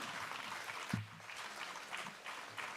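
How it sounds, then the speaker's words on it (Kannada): A hall audience at a Sharana literary convention in Shivamogga claps to honour a guest, a soft, dense patter of hands heard from a distance with a brief thump partway through. "ಚಪ್ಪಾಳೆಯೊಂದಿಗೆ ಗೌರವಿಸೋಣ"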